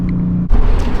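A Ford Mustang GT fitted with a loud C&L axle-back exhaust revs, a steady low idle rumble giving way to a sudden louder, rougher burst of exhaust noise at close range.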